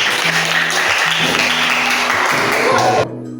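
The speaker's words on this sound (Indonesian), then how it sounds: "Semuanya tepuk tangan semuanya." Elementary schoolchildren applauding together in a classroom during a digital lesson, dense continuous clapping throughout that cuts off abruptly near the end, with a low hum underneath.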